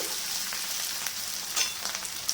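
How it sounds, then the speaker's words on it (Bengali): Ginger, garlic and green and dried chili paste sizzles in a pan for mutton curry, a bright continuous close hiss with small crackles and no talking. "আদা রসুন বাটাটাকে একটু কষিয়ে নেব"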